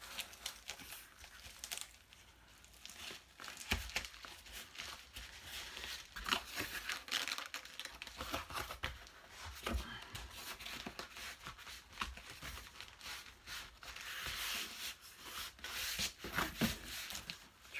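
Cardboard packaging for an eBay shipment is folded and creased by hand, its sides pressed in, giving steady close rubbing, crinkling and scraping with brief crunchy bursts over a continuous rustle.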